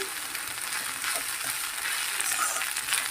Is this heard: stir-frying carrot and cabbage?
yes